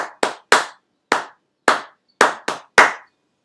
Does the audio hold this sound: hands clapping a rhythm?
yes